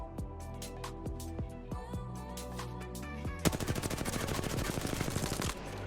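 An automatic rifle fires in a video game: a few spaced single shots at first, then a rapid continuous burst emptying the full magazine, loud and close.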